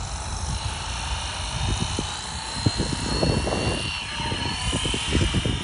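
A remote-controlled model aircraft powers up and spins its propeller, giving a steady, whirring motor drone with fluttering pulses that builds slightly and holds close by, with no talking.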